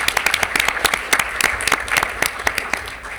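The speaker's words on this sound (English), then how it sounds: "Let's give Sarah another round of applause." Audience applause in a school board meeting room honoring a teacher, a dense, loud burst of many hands clapping steadily throughout, with no talk over it.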